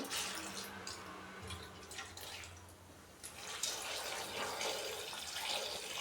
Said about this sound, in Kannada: ಇದಿಷ್ಟು ಹಾಕಿ ಬೇಯೋ ಅಷ್ಟು ನೀರು ಹಾಕೋತಾ ಇದ್ದೀನಿ ನಾನು